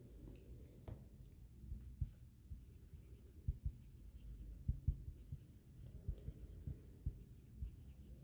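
Pen scratching out notes on paper during a Hindi law lecture on the Geneva Convention, with soft irregular strokes and light taps close by over a faint room hum.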